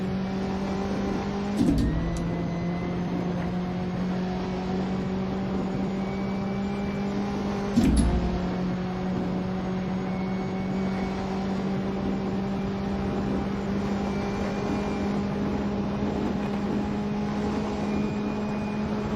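A race car in Assetto Corsa howls down the final straight of the 1960s Longford Circuit at high speed. A loud, steady engine drone is broken by two quick gear shifts, each with a brief dip and rise in pitch.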